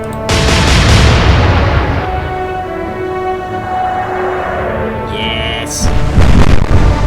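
Heavy naval guns firing from Royal Navy and Kriegsmarine warships in the naval combat game Atlantic Fleet, loud booming blasts at the start and again near the end, with a long rumbling roar between them and no talk.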